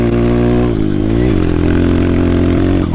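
A dirt bike engine revs loudly and close up, its pitch climbing, dipping and climbing again in quick bursts before it settles into a strong, steady drone.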